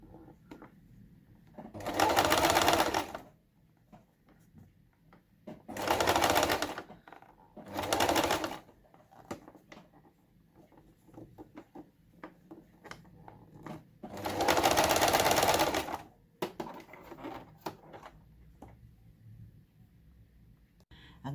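Sewing machine stitching a curved seam on a drunkard's path quilt block, running in four bursts of steady whirring, two short and two longer, with quiet pauses between.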